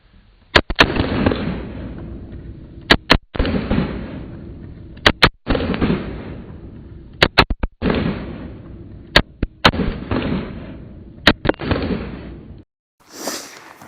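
A Staccato P pistol with a steel grip fires Atlas magazines on a range: sharp, loud gunshots in quick pairs and triplets, each with a brief echoing tail, repeated across the string.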